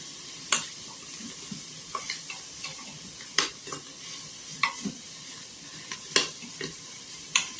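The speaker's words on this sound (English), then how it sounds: "Give it another stir." Onions being stirred in an Instant Pot for ham and bean soup, with a soft steady sizzle under repeated scraping strokes of a spoon against the pot, close and alone.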